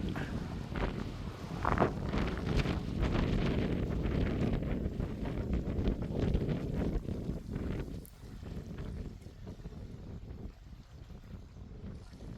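Strong wind roars and buffets the microphone on an exposed coastal clifftop walk near Old Harry Rocks in Swanage Bay, a loud continuous rush with gusts and no voices.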